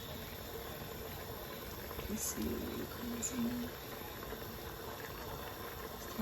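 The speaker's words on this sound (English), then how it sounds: "Oxtail is over here boiling away." Oxtail boiling in a pot for a Jamaican-style dish gives a steady low bubbling hiss in the background while a person talks briefly over it.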